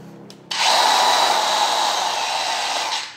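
A Mollar CCS20500 cordless brushless circular saw motor spins up sharply after a short pause, holds a steady high whine at full speed, then starts to wind down at the end, running freely with no cutting.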